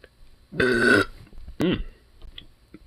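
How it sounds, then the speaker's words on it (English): A loud, long burp of about half a second booms out alone, followed shortly by a second, shorter belch, with faint background noise and no talking. "Mega burp."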